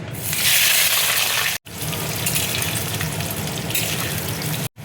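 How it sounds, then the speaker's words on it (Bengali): Potatoes dropped into hot mustard oil in a wok give a loud, broad sizzling hiss that runs steadily, broken by two brief silent gaps. "কড়াই দেখো তেল দিচ্ছি, তেল গরম হয়ে গেছে। এবার দেখো আলুটা আমি দিয়ে দিচ্ছি।"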